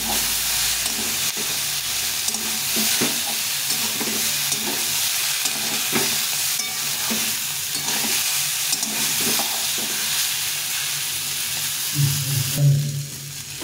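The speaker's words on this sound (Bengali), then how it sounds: "সেগুলো একটু ভালো করে ভেজে নেব।" Cauliflower stems and vegetables fry and sizzle in a pan under steady hissing, with periodic scraping and clacking as they are stirred, close and moderately loud throughout.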